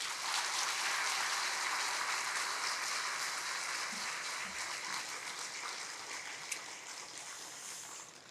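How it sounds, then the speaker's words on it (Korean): A church congregation applauds during a Sunday service. The clapping is a soft, distant, steady wash of sound that lasts the whole stretch and fades a little toward the end. "등단하실 때 다시 한번 사랑의 마음을 담아 우리 박수로 모시겠습니다."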